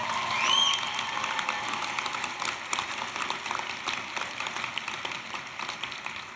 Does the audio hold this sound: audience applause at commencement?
yes